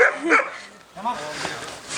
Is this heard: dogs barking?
yes